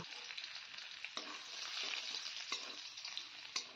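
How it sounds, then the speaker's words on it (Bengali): Chopped garlic frying in mustard oil in a pan for a Bengali dry fish and taro stolon dish, a soft steady sizzle broken by a few sharp stirring clicks of a utensil. "এবার রসুনটাকে কিছুক্ষণ ভেজে নেব।"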